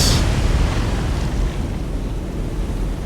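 In a War on the Sea naval battle, a ship is hit by its own torpedo, setting off a deep, rolling explosion rumble that carries on steadily over wind-like noise, with a brighter burst right at the start.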